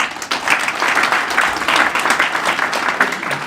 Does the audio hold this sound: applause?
yes